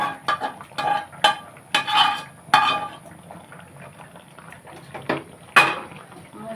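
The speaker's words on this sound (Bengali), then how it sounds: "এই মাংসের মধ্যে এখন এই মশলাটা ঢেলে দেবো।" A spice paste of cooked-down spices and red chili powder is poured and scraped into chicken in a pan. Wet, clattering scrapes and spoon knocks come in uneven bursts, close and fairly loud.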